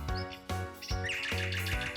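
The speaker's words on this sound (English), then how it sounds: "Nightingale." Nightingale song comes as rapid repeated chirping phrases in a steady rhythm with bright whistled trills, loud and close with no voices over it.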